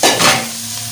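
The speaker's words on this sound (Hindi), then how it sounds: "और पानी ऐड कर लेते हैं।" Water hits vegetable noodles in a hot frying pan, setting off a loud, close burst of hissing sizzle that fades over a second, with no voices.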